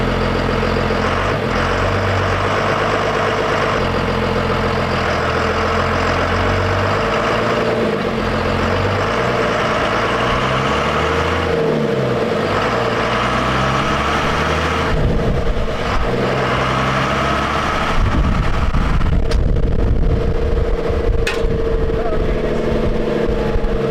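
A Cummins diesel-powered Ford Dentside pickup driving on the road in low gearing, its engine droning loudly and continuously, the pitch rising and falling through the gears and growing harsher toward the end.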